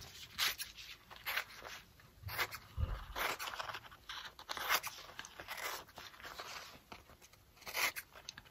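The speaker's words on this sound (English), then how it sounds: "we're going to cut out around the edge of this, but not right on the outline" Paper being cut with scissors around an outline for a coffee filter watercolor craft, heard as close, irregular snips and crinkling rustles with short pauses between them, with no one talking.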